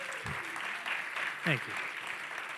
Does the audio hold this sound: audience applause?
yes